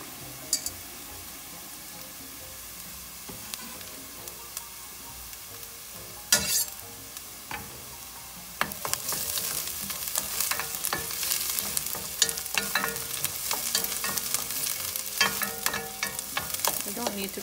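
Garlic and browning onions fry in a pan for eggplant parmigiana, a quiet clink or two giving way to a loud, close, continuous sizzle with stirring scrapes and crackles.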